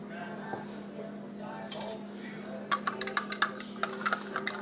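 A spoon stirs milk into oil in a bowl for a no-fail pie crust, giving a run of quick light clinks and taps against the bowl after a quieter start, heard close over a steady low hum.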